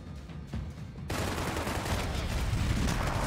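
A loud explosion bursts in the video game Max Payne 3, a sudden broadband blast that swells into sustained rumbling and crackling debris noise.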